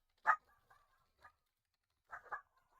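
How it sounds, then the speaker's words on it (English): A dog barks in scattered, distant bursts, with a sharp yelp followed by softer yips and a pair of quick barks after a pause, faint and alone. "I don't know if you can hear the dog."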